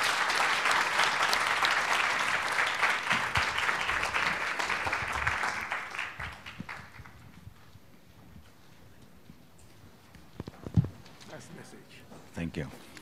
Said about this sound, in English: applauding again to Professor ÖQUIST.